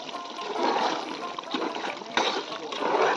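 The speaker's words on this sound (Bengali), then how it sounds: "এবার মাংসের মধ্যে ঢেলে ভালোভাবে মিক্স করে আরও 2 থেকে 3 মিনিট রান্না করব।" Fried spices are poured into cooking duck meat and stirred through, making close, wet splattering and sloshing noises that run continuously at moderate volume.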